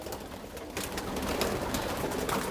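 Breeding pigeons with chicks in nest boxes, cooing softly under a steady rustling, close-up background hum in a loft.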